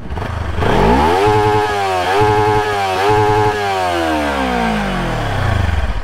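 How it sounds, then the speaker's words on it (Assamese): A new motorcycle engine in neutral revs up several times in a row from idle, each rise and fall of pitch loud and close, then settles back to a steady idle. "আপোনালোকে একজষ্টৰ চাউণ্ড শুনিবলৈ বহুত আশা কৰি আছে"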